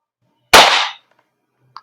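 A WE HK G36C airsoft gas blowback gun fires a single semi-auto shot, a sharp loud crack with a short hissing tail, followed by a faint small click.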